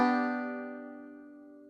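A single plucked and pinched chord on bright metallic banjo strings rings out and slowly fades, clear and close with no other sound. It is a bluegrass banjo vamp.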